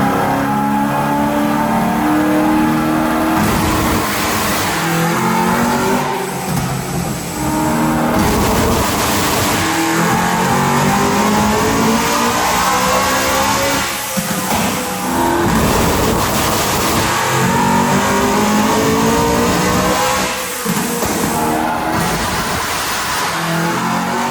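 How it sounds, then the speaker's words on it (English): A tuned BMW E90 M3 V8 revs hard on rolling launch control, then accelerates through repeated gear changes, the loud engine rising and dropping in pitch with brief breaks between pulls, close and unbroken by talk. "we're gonna try the rolling launch control, which I'm a bit nervous for."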